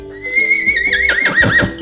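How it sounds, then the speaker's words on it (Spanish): A horse gives a loud, close neigh, a rising whinny that breaks into a shaky, quavering descending call lasting under two seconds, heard alone. "Cuando está contento, ese sonido se llama relincho"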